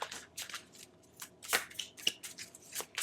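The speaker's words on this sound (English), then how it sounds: "Here, just give me a few minutes to pull some cards" Tarot cards being shuffled and pulled by hand, a string of short crisp riffling and sliding bursts, close and fairly quiet, with no talking.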